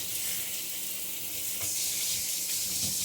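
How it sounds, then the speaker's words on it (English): Carrots being rinsed under a running tap in a kitchen sink, a steady broad hiss of water lasting throughout at an even, moderate level, with no talking. "then I'll rinse the carrots off over here in this sink."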